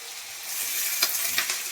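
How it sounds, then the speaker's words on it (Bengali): Onions and green chillies sizzle in hot oil over a five-spice (panch phoron) tempering, a steady frying hiss with a couple of soft stirring clinks, close and short. "5 ফোড়ন ভাজা হয়ে গেছে আমার, তার মধ্যে পেঁয়াজগুলো দিয়ে দেবো।"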